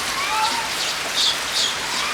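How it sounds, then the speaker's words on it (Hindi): Heavy rain pours down steadily in a broad hiss, with a few faint bird chirps over the wash. "इतने भयंकर बरसात में"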